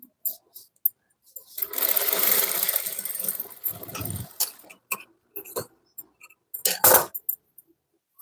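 A sewing machine stitching a cross belt runs in a short burst of rapid mechanical whirring, then gives way to scattered clicks, taps and small handling knocks from the fabric and machine.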